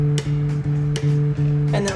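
A bass guitar plucked with the fingers plays a few clean, round low notes in a steady rhythm, close and alone.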